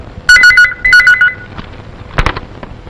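An office telephone rings loudly in two short electronic trilling bursts, followed by a brief clatter as the receiver is handled, with no talk.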